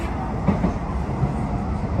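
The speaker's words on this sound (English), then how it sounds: "the end of this tram ride from Blackpool Pleasure Beach" A Blackpool tram runs along the promenade rails near Norbreck Castle, heard from inside as a continuous close rumble with faint rhythmic rail clicks and no speech.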